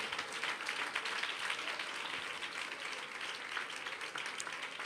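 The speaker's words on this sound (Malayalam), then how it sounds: "കൈയടിക്കുന്നേ, നന്നായി കൈയടിച്ചേ." A church congregation at a Malayalam Christian gathering applauds in a dense, even wash of claps. It holds steady and somewhat distant throughout, with no voices above it.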